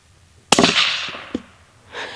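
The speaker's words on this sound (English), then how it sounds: "I'm going to shoot one of these without plugs on, or without earmuffs on." A single sharp rifle shot from a Howa Mini chambered in 6.5 Grendel, firing 120-grain Speer Gold Dot ammunition outdoors, cracks loudly with a broad decaying tail, followed by a fainter knock and a soft rustle.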